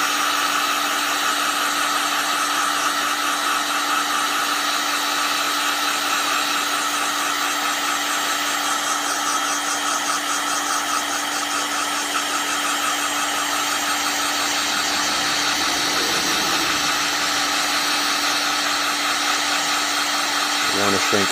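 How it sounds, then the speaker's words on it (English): A heat gun blows steadily as it shrinks heat-shrink tubing around a wire, a continuous close whooshing hum with a faint tonal drone and a slight change in pitch late on. "Rotating the wire here so we get all around the heat shrink."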